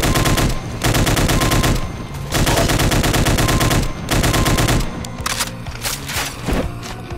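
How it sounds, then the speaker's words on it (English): Chaingunners fire in Doom's Plutonia Experiment, modded with Project Brutality: loud, rapid, continuous machine-gun bursts in long runs with short gaps, ending in scattered shots and clatter. "Kill the chain gunners first."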